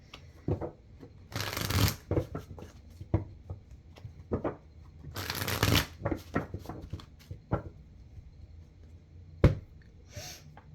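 Two bursts of cards being riffle-shuffled, each a crisp rapid flutter, with scattered light taps and clicks of handling between them, close and fairly quiet.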